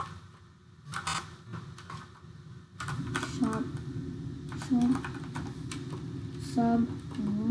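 Fingers tap out a short run of keystrokes on a computer keyboard, quiet clicking bursts arriving in uneven clusters beneath a person talking.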